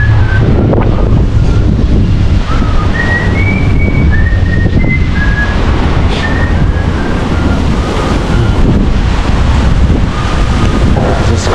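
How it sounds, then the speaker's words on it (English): Strong wind buffets the microphone on a nighttime city street in Cape Town, a loud steady roar throughout with faint whistling tones drifting above it, no talk. "it's too much wind"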